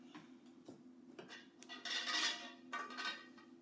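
Pieces of a glass punch bowl set with twelve glasses and a ladle being handled, giving light clinks and taps and a brief brighter rattle of glass knocking together, fairly quiet and close.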